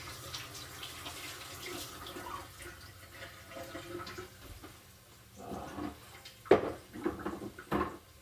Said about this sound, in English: I'm gonna give my hands a quick wash.